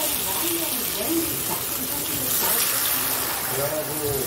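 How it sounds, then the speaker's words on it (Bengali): Water poured into a cooking pan for a green bean and potato curry, a steady continuous gush running for several seconds at moderate level with some background talk. "জল দিয়ে দিই।"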